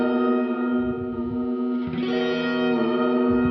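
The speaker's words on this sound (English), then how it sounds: "The foundation of this whole track is the guitar, kind of like surf sounds right here." A surf-style electric guitar rings through effects, sustained chords washed in reverb and echo, with a shift to a new chord partway through, no voices.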